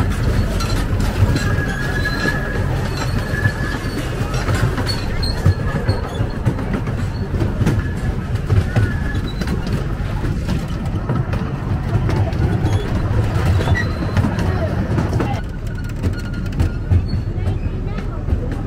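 A train at Bressingham Steam Museum rumbles steadily along the track with rhythmic clickety-clack, continuous and fairly loud, while voices talk over it.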